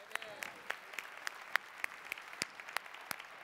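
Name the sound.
audience applause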